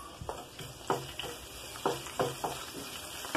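Ginger and garlic frying over a low flame, with a steady soft sizzle broken by repeated scraping stirs of a spatula in the pan at an uneven rhythm.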